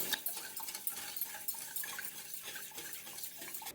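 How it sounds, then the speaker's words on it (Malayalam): A spoon stirs custard mixture with sugar in a pan, giving soft, steady scraping and clinking against the metal, fairly close, alone with no talk. "ഇനി ഒന്നുകൂടെ നന്നായിട്ട് മിക്സ് ചെയ്തെടുക്കാം."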